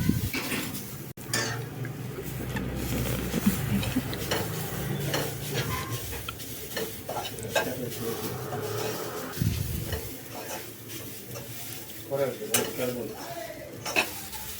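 Carrot pieces frying and being stirred in a pan for a carrot kheer, a steady sizzle with repeated scraping and clinks of a spoon against the metal pan, close by and continuous, with no talking.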